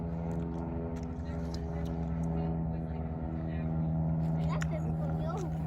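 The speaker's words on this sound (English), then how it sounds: "Look at that big bulldozer." A large tracked bulldozer runs nearby with a steady, loud diesel rumble and drone throughout, while a voice talks over it.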